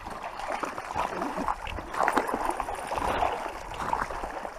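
A dog named Wanda splashing through a mountain creek on a hiking trail, irregular sloshing and splatter over running water, with a voice speaking nearby.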